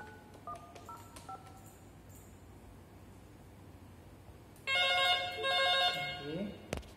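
A series of short keypad tones dials in quick succession on an analog Panasonic PABX, followed by a louder, steady ringing tone, with faint background noise.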